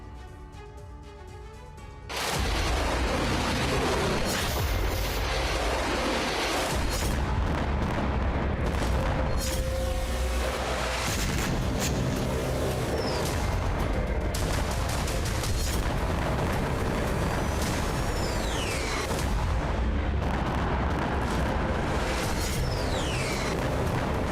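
Heavy bombing and artillery fire in Ukraine: a sudden loud blast opens a sustained roar of explosions and booming detonations, with bursts and rumbling continuing without pause.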